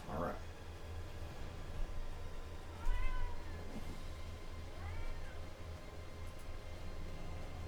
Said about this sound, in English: holding my kitty cat